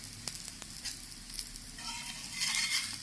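Spinach paneer paratha roasting on a hot pan, a steady crackling sizzle with a few sharp pops, swelling louder toward the end.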